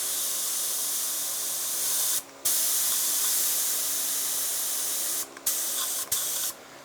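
Spray gun spraying under pressure, a loud, close, continuous hiss broken by a few short pauses as the trigger is released and pressed again.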